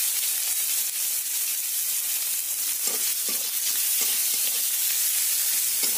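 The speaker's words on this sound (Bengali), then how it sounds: "পেঁয়াজটাকে ভালো করে ভাজা ভাজা করে নেব।" Chopped large onion fries in hot oil in a home kitchen, a steady, close sizzle and crackle with a few soft stirring clicks, no voices.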